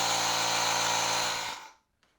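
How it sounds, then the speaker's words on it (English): A Yyton 150PSI cordless portable air compressor runs steadily and loudly while inflating a tire, a dense motorized whir that holds for about a second and a half before cutting off, followed by a faint click. "I am going to add some air to it by removing the valve cover, screwing on the stem, and pressing the pump"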